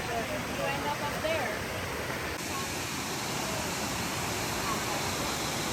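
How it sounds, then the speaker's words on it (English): Steady broadband rush of a waterfall at Longwood Gardens, continuous and fairly close, with a faint voice briefly audible early on. "So we're gonna go look at this waterfall up close."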